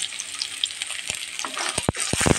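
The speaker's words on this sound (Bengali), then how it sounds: "এখন এইটাকে একটু আমি ভেজে নেব।" Garlic paste frying in a pan for Bengali masoor dal bhuna, a steady close sizzle with scattered sharper pops and stirring clicks building toward the end, no voices.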